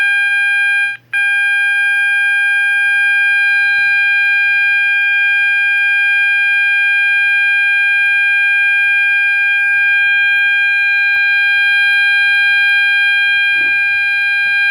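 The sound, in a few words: Gentex GOS fire alarm horn sounding during test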